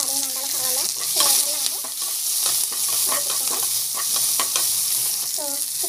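Onions and green chillies frying in a pan, a continuous bright sizzle with scraping stir strokes and a few short wavering tones on top, no talk.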